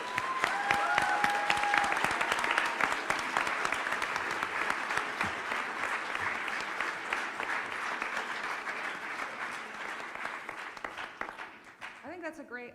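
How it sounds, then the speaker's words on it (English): Fans at the Earpercon UK 2019 convention panel give a long, loud round of applause with scattered whoops, the clapping slowly thinning out and fading near the end, a voice briefly audible beneath it. "I think we should give you a round of applause for the work that you"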